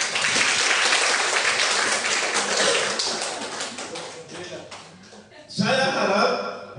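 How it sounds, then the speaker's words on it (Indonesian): An audience at a school teacher-training opening applauds loudly, a dense burst of clapping that fades out, then a short second wave of claps and cheering near the end. "Maka saya pikir kita berikan aplaus."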